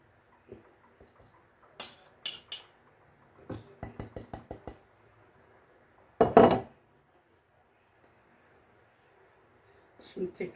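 A metal spoon presses cocoa lumps into chocolate cake batter in a mixing bowl for a chocolate banana birthday cake, giving scattered light clinks and quick taps against the bowl, some in short rapid runs, with quiet pauses between.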